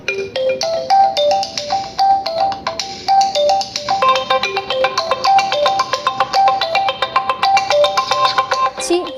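A phone ringtone plays a bright, repeating melodic pattern, loud and close, with the notes pulsing in a steady rhythm for the full stretch, and no talking over it.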